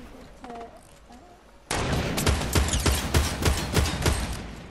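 Rapid bursts of gunfire in a Fortnite 50 vs 50 battle royale match, starting abruptly and continuing as a loud, sustained volley of close shots for several seconds after a quieter opening.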